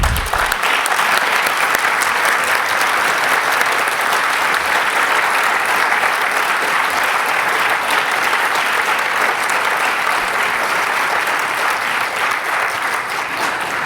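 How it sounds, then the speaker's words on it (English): A large audience at the 2019 IHF Awards Ceremony gives sustained, loud applause for the standing award winners, dense even clapping filling the room for about fourteen seconds without talk. "let us all give them a big round of applause"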